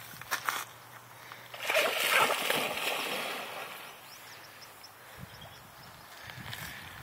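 A dog swims in the Snake River in Idaho, and its paddling makes irregular sloshing and splashing in the water that swells and fades over several seconds, at moderate distance and without talk.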